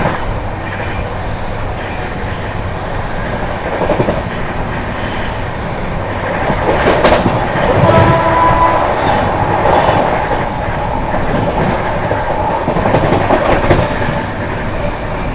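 The Shiv Ganga Express overtakes the 12329 West Bengal Sampark Kranti, a loud, continuous rumble of passing rail cars with rhythmic clickety-clack that swells midway and stays close throughout.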